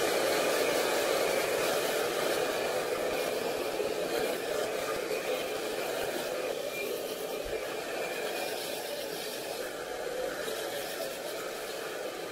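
A handheld hair dryer blows steadily and close during a rough dry of hair, focused on the roots and mid shaft, a constant broadband whoosh for the full length with no talking.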